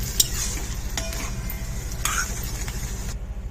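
Egg burji fries in a pan, giving a steady sizzle and crackle close by, with occasional scrapes and taps as a spoon stirs it.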